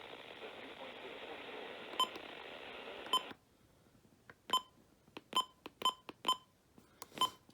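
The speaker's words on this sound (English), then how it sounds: "Button beeps. I'm gonna turn that off." Several short electronic button beeps from a Midland weather radio, sharp and clear, first under a steady hiss, then alone in an irregular series of single and paired chirps.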